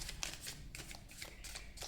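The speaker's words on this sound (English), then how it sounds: "Let's give these cards a good shuffle first." A deck of tarot cards is shuffled in quick repeated riffling bursts, soft and close, filling the whole stretch with papery flutters.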